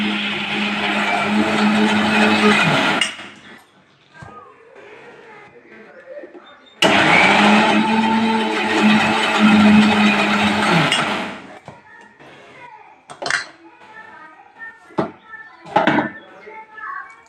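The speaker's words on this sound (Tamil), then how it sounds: "இப்போ அரைக்க போகிறேன் பாருங்கள்." Mixer grinder grinding toor dal, chana dal and coconut for Chettinad lentil dumpling curry: two loud, steady whirring runs of about three and five seconds each, separated by pauses, followed by knocks and taps.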